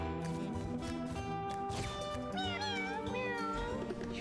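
Cat meows in the video game Mewgenics, a few rising and falling yowls standing out over steady game music, fairly close and clear, with no talk.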